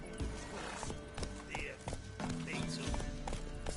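Roach, the horse in The Witcher III, whinnies and snorts while hooves clip-clop steadily nearby. A voice talks over the animal sounds.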